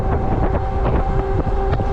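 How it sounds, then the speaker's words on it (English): Strong wind buffets the microphone while riding an Engwe e-bike on a very windy day, a loud continuous roaring rumble with uneven gusty surges. "we're fighting against the wind because it's really windy today"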